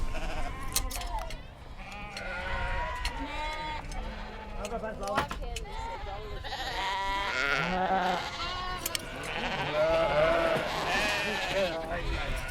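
Sheep bleat repeatedly as they are herded in the Faroe Islands, a mix of near and farther calls with people's voices talking over the flock.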